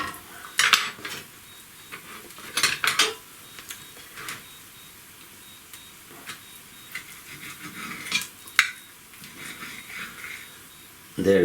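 A knife and fork cut a cooked ribeye steak on a plate, producing sharp metallic clinks and scrapes in irregular bursts, close and fairly loud against a quiet background.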